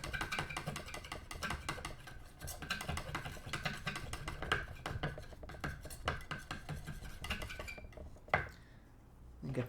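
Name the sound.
mixing gouache paint on a palette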